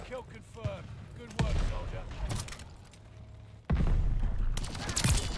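A one-shot-kill DLC weapon fires in Call of Duty: Vanguard, sharp loud reports sounding a few times with gaps between them, mixed with game noise and someone talking over the action.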